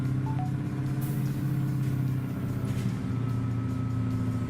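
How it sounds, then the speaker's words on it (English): In a trucking video game, a heavy truck descending mountain roads runs its retarder, a constant low droning rumble, steady and loud, with a faint brief whine near the start. "I'm using my retarder now"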